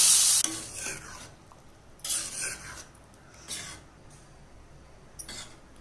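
Tempering is stirred into a sundakkai dal kootu in a pan, with a few short scraping, sizzling strokes of a spoon spaced apart and quiet gaps between.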